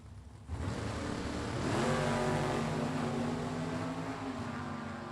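A red drag-racing pickup and a Willys Coupe launch off the line at a Super Pro bracket race, engines roaring up with a rising pitch, then holding a loud, steady drone that eases slightly toward the end.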